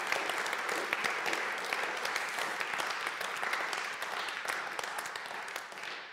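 Sustained applause from a church congregation during a faith talk, many hands clapping evenly at moderate distance throughout, no voices over it.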